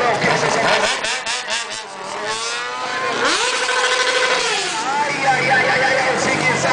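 Motorcycles zigzag between one another at a stunt show. Their engines rev and whine up and down under loud, continuous announcer commentary in Portuguese.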